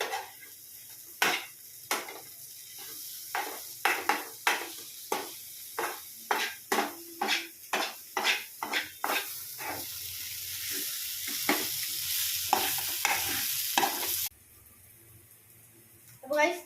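Egg masala fries in a pan, a bright steady sizzle broken by repeated scraping clinks of a spoon stirring against the metal, close and lively, with a voice talking over it before the sizzle abruptly fades.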